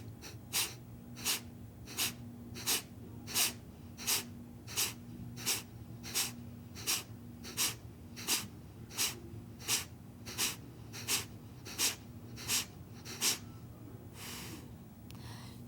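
Forceful yoga breathing in twenty rapid, evenly spaced exhale strokes, each a sharp nasal puff, close and loud over a steady low hum, the last strokes fading slightly softer.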